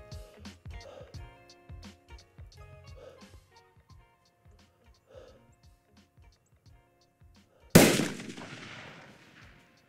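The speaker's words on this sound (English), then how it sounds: "Fired that first shot." A precision rifle fires its first zeroing shot, a single sharp, loud crack that decays quickly, preceded by soft clicks and quiet handling noises with faint breathing.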